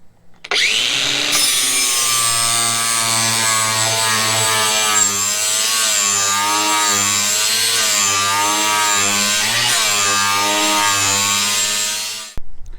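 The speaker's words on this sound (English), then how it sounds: "put your grinder in here, and grind away" A grinder grinds a lawn mower blade held in a sharpening jig set at 30 degrees, a loud continuous abrasive whine that runs for about eleven seconds with a shifting pitch before it cuts off.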